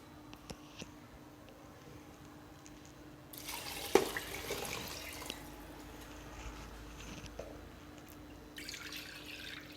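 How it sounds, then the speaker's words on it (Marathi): A quiet kitchen, then water gushes into a cooking pot of rice for a few seconds, followed by soft clinks and a brief second pour. "आता आपण ह्याच्यामध्ये पाणी घालूया"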